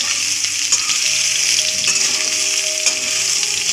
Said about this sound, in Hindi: इसे अच्छे से ब्राउन कर लेंगे।